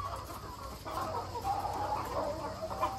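Healthy farm chickens cluck and murmur in a soft, continuous chatter, near but fairly quiet, with a few sharper clucks rising out of the flock.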